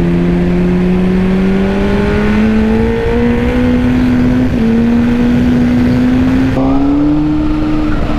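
Honda CBR 1000 RR SC57 motorcycle leaning through a corner, its engine droning steadily and loud with pitch slowly rising and dipping as the rider holds and rolls on the throttle, with no talk.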